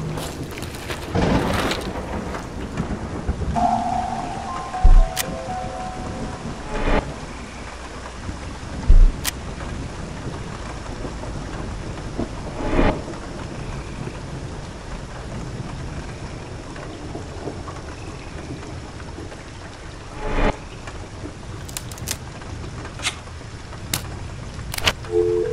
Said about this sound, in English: Hope we make it indoors before the storm hits.